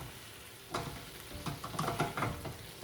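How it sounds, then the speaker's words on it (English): Shrimp juices left in the pan bubbling and reducing, a soft, low sizzle that grows busier partway through with scattered pops and crackles. "keep the liquids that were let out from the shrimp to boil until they reduce"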